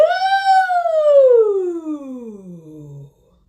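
A single sustained vocal slide on an "ooh", starting mid-high and gliding steadily down to a low pitch over about three seconds, then stopping.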